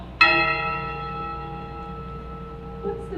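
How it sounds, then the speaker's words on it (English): One bell strikes sharply in a stage production of Macbeth, its bright ringing tone sustaining and slowly fading for several seconds, with a faint second tap near the end. "Ring the bell!"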